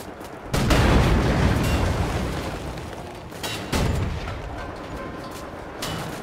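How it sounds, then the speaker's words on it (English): Heavy booming cannon shots in Wolfenstein: The New Order, three of them spaced unevenly, each a loud thump followed by a long rumbling tail, with no voices. "Why are you shooting the cannon?"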